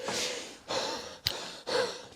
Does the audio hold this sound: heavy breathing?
yes